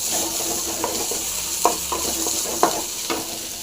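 Horse gram sundal frying in a pan, a steady bright sizzle with occasional spoon taps and scrapes as it is stirred, close and continuous with no talk.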